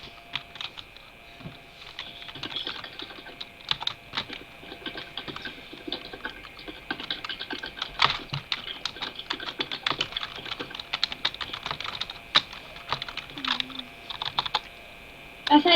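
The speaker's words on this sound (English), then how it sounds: "She's just typing everything I say." Rapid, irregular clicking of keys on a computer keyboard, fairly close and quiet, continuing in quick bursts and short pauses from start to finish, with a slight knock near the end.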